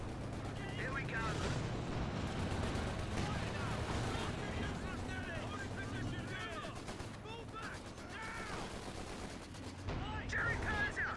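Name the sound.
German Panzer tank firing in Company of Heroes 2 video game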